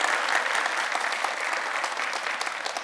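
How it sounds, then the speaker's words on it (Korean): Steady, dense applause from an audience at a televised New Year's town-hall event with a mayor, filling the room evenly and continuously without voices on top. "박수 부탁드립니다"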